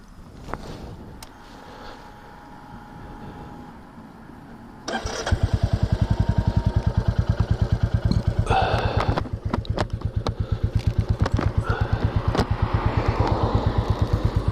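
A 2022 Royal Enfield 350 Classic motorcycle fires up after a few seconds of outdoor wind and faint ambience, then settles into a loud, close single-cylinder thump that idles steadily and blips.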